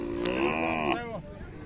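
A Khillar bull moos at a cattle fair, one long, loud, close bellow that tails off, with crowd noise beneath.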